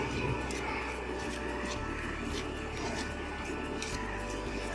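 Sugar, instant yeast and milk powder being stirred together in a bowl for bun dough, a steady, close scraping and rubbing with short gritty bursts.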